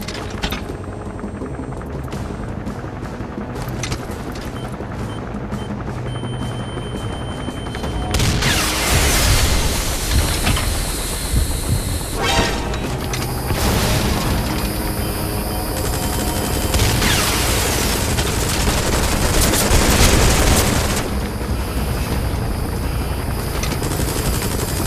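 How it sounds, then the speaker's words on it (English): An enemy gunship helicopter in Metal Gear Solid V: The Phantom Pain roars on loudly and without a break, overlaid with sustained bursts of gunfire and heavy booms that build in the middle and again near the end, with no talking. "That's an enemy gunship."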